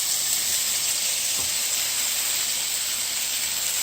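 Blueberry pancakes sizzle in a pan over low heat, a steady, soft hiss of frying batter continuing without a break and with no talk over it.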